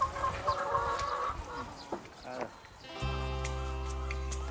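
Chickens clucking in an egg farm henhouse during egg collection, irregular calls over a steady background, with a low sustained hum taking over partway through.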